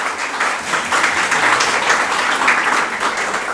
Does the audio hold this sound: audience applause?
yes